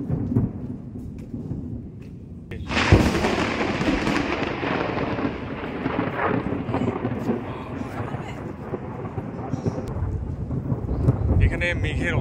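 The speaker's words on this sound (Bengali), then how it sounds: "মেঘের আওয়াজ শুনতে পাচ্ছেন নিশ্চয়ই।" Thunder from a heavy storm with frequent lightning near Hirakud Dam in Sambalpur: after a quiet stretch, a loud, deep roll breaks in and rumbles on for about nine seconds over wind noise.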